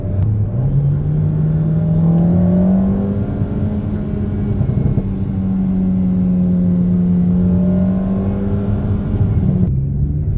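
Alpine A110S sports car engine accelerating, a loud steady drone that rises and holds its pitch for about ten seconds with a faint whine above it, heard from inside the cabin with no talking.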